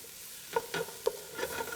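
Onions cooking down in a soup pot with pork sausage, giving a soft steady sizzle broken by several sharp stirring scrapes and clicks, close and fairly quiet, with no one talking.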